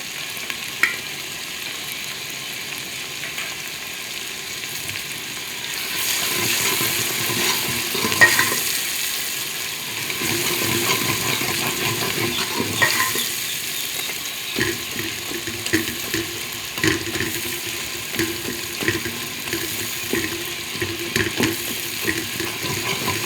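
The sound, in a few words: crushed garlic sizzling while stir-frying chicken macaroni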